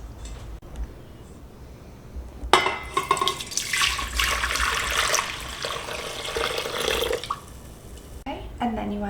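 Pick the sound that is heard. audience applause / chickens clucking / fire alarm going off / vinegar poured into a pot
vinegar poured into a pot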